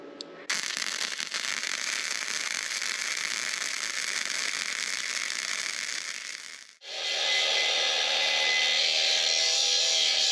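Welding outdoors in bright sun on a solar array mount gives a steady, crackling broadband hiss for about six seconds, breaks off, then resumes as a harsher, brighter buzzing sizzle, with no talk.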